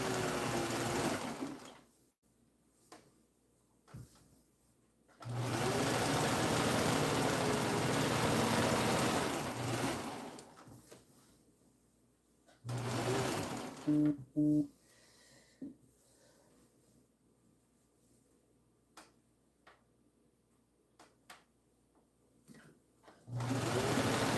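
A sewing machine stitches quilt blocks in loud, close bursts of fast, even whirring, several runs of a few seconds each separated by quiet pauses with small handling sounds.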